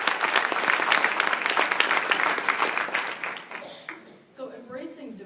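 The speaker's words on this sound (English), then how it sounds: "I'd like to thank each of you and give you a round of applause" A conference audience gives dense, sustained applause that gradually thins out, followed by a speaker's voice.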